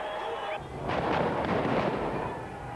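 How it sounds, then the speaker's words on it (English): Police firing plastic bullets during street rioting near a bridge, with petrol bombs thrown, a muffled burst of shots and rumbling commotion rising after a short lull, heard at a distance. "The RUC responded by firing a number of plastic bullets."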